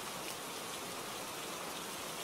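Steady rain falls with an even, continuous hiss that holds a constant level throughout, with no voices or other sounds over it.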